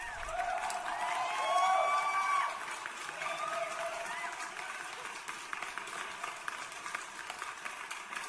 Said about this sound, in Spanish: ya cierro los aplausos